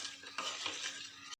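A spoon stirs sour curd mixed with salt in a bowl for Sirsi-style ondelaga tambuli, giving soft, close scraping and sloshing strokes that stop abruptly.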